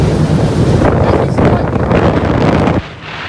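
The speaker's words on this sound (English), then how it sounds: "the wind has now picked up" A loud, blustery rush of wind buffets the microphone over open water during SB20 sailboat racing in Australia, roaring steadily before easing off abruptly at the end.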